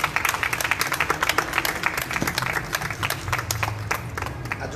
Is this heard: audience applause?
yes